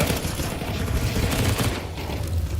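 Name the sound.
scout rifle gunshot in Counter-Strike video game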